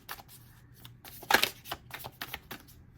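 A deck of tarot cards is shuffled at close range, with quick riffling flutters and soft slaps in irregular bursts, one louder riffle standing out in the middle.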